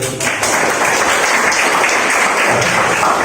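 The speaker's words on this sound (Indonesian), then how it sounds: "beri tepuk tangan" Students in a classroom giving a round of applause, dense and loud clapping from the whole class that starts abruptly and holds steady throughout.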